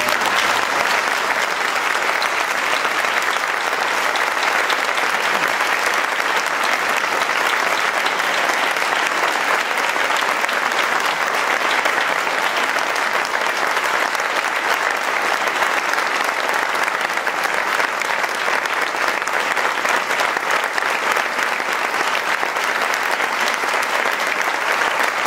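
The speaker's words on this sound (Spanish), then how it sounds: "voy a pedir un aplauso fuerte y acogedor por Daniel Zamora" Sustained, strong applause from an audience at an award ceremony, a dense, even roar of clapping lasting the whole stretch without pause and without speech.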